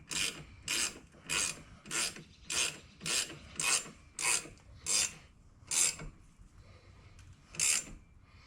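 A ratchet tightens 15 mm bolts on axle brakes with a regular series of loud, close rasping clicks at roughly even intervals, a short pause, then one more stroke.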